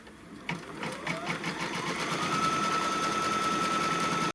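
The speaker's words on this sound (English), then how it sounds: "so now it's just going to stitch the tack down, and it'll be going through all the layers." An embroidery sewing machine stitches a tack-down line through all layers of a quilted round pillow, a steady fast mechanical whirring with a rising hum, close and continuous until it stops abruptly.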